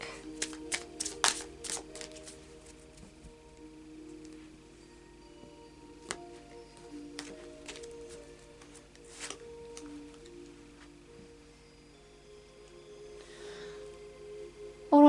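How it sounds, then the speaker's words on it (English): Close, crisp riffling and flicking as a deck of oracle cards is shuffled, with quick bursts early on and scattered softer shuffles later. "a final shuffle of the Oracle of Visions"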